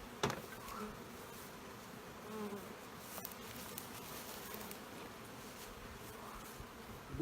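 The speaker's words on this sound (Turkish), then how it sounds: "Birazdan burada arılar birikecek." Steady buzzing of many honeybees close by during transfer of comb from a traditional log hive, a continuous insect drone with a sharp tap near the start.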